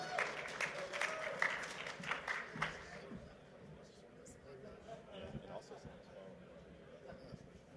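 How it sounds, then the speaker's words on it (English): Audience applause rises in a busy room at a panel event as a moderator is called up, dense clapping for about three seconds before thinning into murmur and scattered noise. "Give her a round of applause and let's get this energy up."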